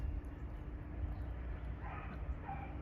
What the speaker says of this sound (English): there's somebody else down here with dogs, a couple dogs